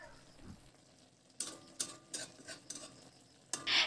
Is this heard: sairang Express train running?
no